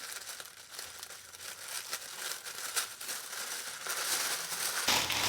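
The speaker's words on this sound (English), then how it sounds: "on the inside, we have some more tissue paper. So let's go ahead and open this together." Tissue paper packaging from a Hermes fine jewelry purchase is unwrapped, giving continuous close crinkling and rustling that swells louder toward the end, with no talking.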